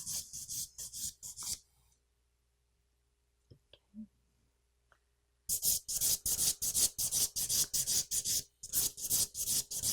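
A hand file works in long, even strokes, a rapid rhythmic rasp repeating about twice a second. Near, loud bursts are broken by a quiet pause of several seconds with faint clicks before the filing resumes.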